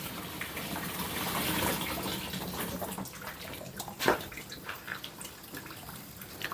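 Tap water flows into the wash tub of a washing machine, a steady broadband rush with small splashes and a brief louder gush near the middle, fairly close and continuous with no talk.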